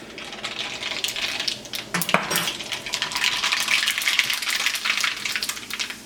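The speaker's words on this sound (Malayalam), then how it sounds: "അപ്പോൾ കടുക് പൊട്ടിയിട്ടുണ്ട്" Mustard seeds splutter and crackle in hot sesame oil while a pickle is being made, a continuous close frying hiss full of sharp pops, with a louder clatter near the middle and no talking.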